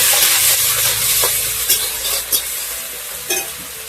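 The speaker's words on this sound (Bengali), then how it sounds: "এবার এটাকে ভাজা করতে হবে।" A paste of dried fish, garlic and green chili sizzles loudly in a pan, with a broad steady hiss and a few sharp scraping stirs close by.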